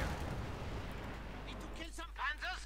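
A heavy mortar fires in a Company of Heroes 2 match, a low rumbling boom of distant battle under the game mix, with a commentator's voice rising near the end.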